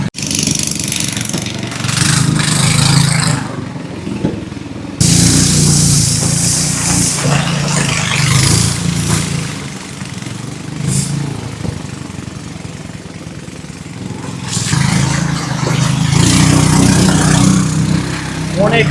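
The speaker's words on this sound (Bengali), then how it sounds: "খুবই মোটরের অনেক শক্তি দিয়ে এই পাথরগুলো অতিক্রম করে যাওয়ার চেষ্টা" A loud motorboat engine drones steadily throughout, straining upstream against the current over rocks on the Sangu River, Bangladesh, its pitch and intensity rising and falling, with rushing water noise mixed in.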